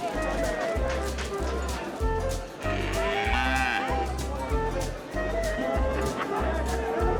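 Sheep and goats bleat repeatedly at a busy Friday livestock market, several calls rising over crowd chatter and shuffling, with people talking throughout.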